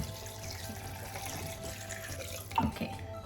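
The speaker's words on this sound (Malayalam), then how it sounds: "ഞാൻ ഇനി മാക്സ് സെറ്റിംഗ് വരെ വെള്ളം ഇടാൻ പോവാണ്" In a home kitchen, water pours steadily into an appliance jar up to its max mark, a quiet continuous trickle with a brief louder splash near the end.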